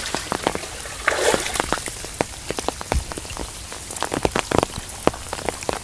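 Heavy storm rain pours down steadily, with many sharp drops pattering and splashing close by on surfaces, loud and continuous with no speech.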